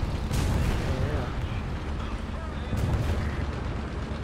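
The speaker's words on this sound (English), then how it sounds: "50 cals are gross." Heavy .50 caliber machine gun fire in a shooter video game, loud booming bursts rolling continuously, with a voice faintly under the din.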